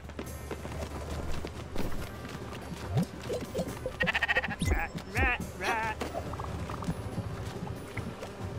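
Sheep in the video game Spiritfarer bleat in a few short wavering calls amid busy game sounds, with quick scampering footsteps and a light splash mixed in.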